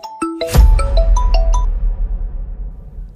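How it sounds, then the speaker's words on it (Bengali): A phone ringtone plays a quick rising run of bright electronic tones, then fades into a low rumbling hum; no one talks over it. "দেখ তোর বাপের ফোন চলে এসছে।"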